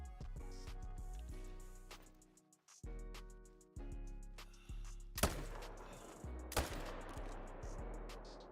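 Gunshots ring out while hunting red deer in Call of the Wild: two sharp, loud cracks with trailing echoes land late, over a busy, fairly quiet game backdrop.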